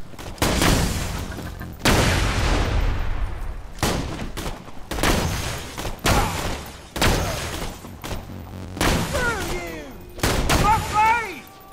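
Sniper rifle shots in Borderlands 2 boom out one after another, about eight loud cracks with long decaying tails, mixed with other in-game explosions and effects.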